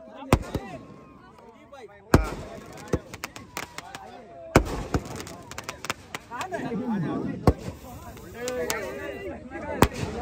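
Fireworks bursting at the awards celebration after a kite-flying club final, sharp bangs and crackles scattered through the clip, several loud close pops, with someone talking over them throughout.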